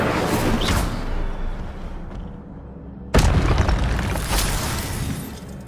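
Incendio fire spell cast in the Hogwarts Legacy video game, a loud roaring whoosh that dips briefly and then hits again in a sudden booming burst, continuing alone to the end.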